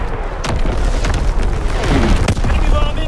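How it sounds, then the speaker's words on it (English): A loud, sustained rumbling blast from enemy artillery in Call of Duty: WWII, close and heavy with crackling debris, while in-game voices call out. "Incoming enemy artillery!"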